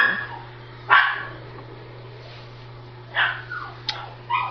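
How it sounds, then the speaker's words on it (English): A dog barks several times in separate bursts, slightly muffled as if from another room, with quiet stretches between barks. "I'm sorry about the dog barking."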